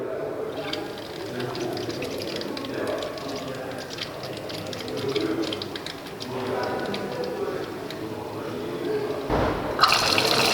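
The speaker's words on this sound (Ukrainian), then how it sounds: "Зараз колби наповнюються водою." Water rushes and gurgles steadily as the filter housings of an Ecosoft P'ure AquaCalcium reverse osmosis system fill after cartridge replacement, with a sudden louder hiss of flow near the end.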